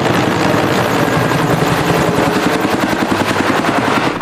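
A toy combat helicopter fitted with rockets runs loud and close, with a continuous dense whirring, rattling drone and rapid rhythmic pulsing throughout, with no talk.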